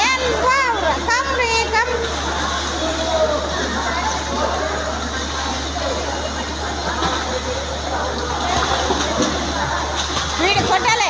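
Children splashing water while swimming, with lively, continuous splashes and churning water up close, mixed with children's voices and an adult calling out encouragement.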